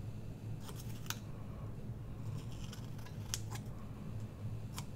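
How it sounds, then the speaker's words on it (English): Scissors snip through several layers of paper in a few short, crisp cuts over a low steady background hum, close but quiet, with no talk. "So I'm just going to trim down some of them."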